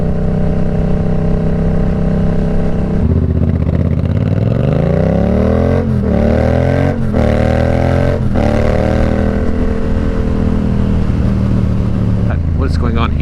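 A Yamaha FZ07 / MT07 motorcycle out on a ride, its engine droning loud and close throughout, rising and falling as the rider shifts through the gears and revs climb, over steady wind rush.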